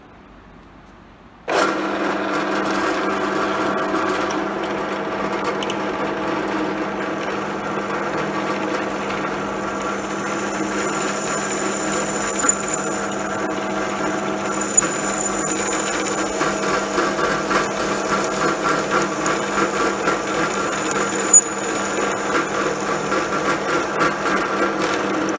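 A power drill starts abruptly and bores a hole in metal, running at a steady, loud whine for a long stretch, with occasional sharp ticks as the bit bites.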